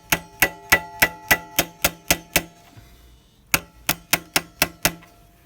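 Sharp metal-on-metal hammer blows strike the locking tab of a KTM 690 Enduro R countershaft axle nut: eight quick evenly spaced hits, a short pause, then six more, loud and close with nothing else audible.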